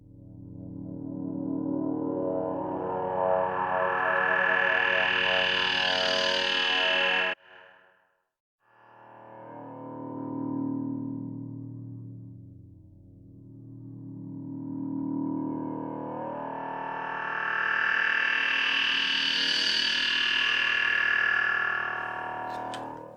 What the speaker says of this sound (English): So already we're kind of getting this atmospheric sound to it, and we don't even have any effects on it yet